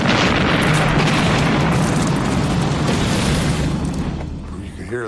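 Loud naval shell explosion from the D-Day bombardment of Normandy, a sustained rumbling boom that fills the whole clip before slowly trailing off, with voices faintly present underneath.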